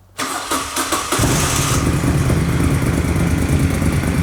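A motorcycle fitted with an aftermarket exhaust pipe cranks and fires up, then settles into a loud, steady, throbbing idle close by, with no talking.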